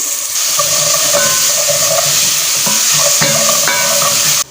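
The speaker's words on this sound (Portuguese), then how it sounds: "Eu vou colocar aqui o alho e o sal para poder dar uma fritada" Garlic and salt frying in a pan on a home kitchen stove, a loud, continuous close-up sizzle and hiss with a few scraping stirs of a spoon, no voices.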